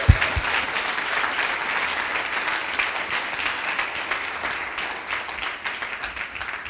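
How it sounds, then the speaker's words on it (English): Audience applause at a demo day presentation in Montréal, a dense, even clatter of many clapping hands held at a steady level, easing slightly toward the close. "I really like to applaud them a lot for their good job"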